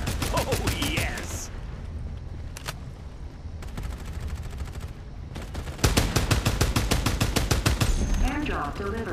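Rapid bursts of automatic gunfire in the video game Farlight 84, dense repeated shots starting and stopping in volleys, with a louder sustained burst near the end and game voice lines between.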